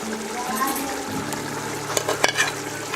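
Boiled-then-fried potatoes are dropped into a biryani pot, which answers with a steady loud sizzle of hot oil. A few brief clattering knocks from the stirring sit on top of the hiss.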